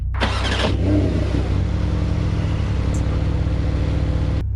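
A 2020 Porsche 911 Carrera S (992) with sport exhaust fires up with a sharp, loud rev, then settles into a deep, rumbling idle, close by with no talking.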